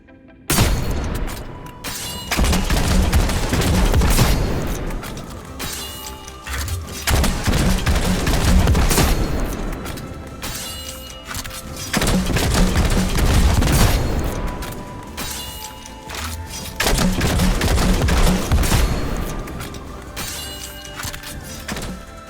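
Grenade launcher and Izanagi's Burden firing in Destiny 2, with Outrageous Fortune in use. Heavy booms and blasts come in three loud repeated bursts with brief lulls between them, and no talking.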